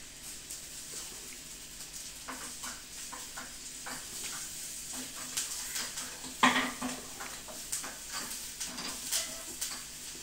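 Garlic and curry leaves sauté in a pan, giving a soft, steady sizzle with scattered clinks and scrapes of a stirring spoon against the pan, one sharper clink standing out midway.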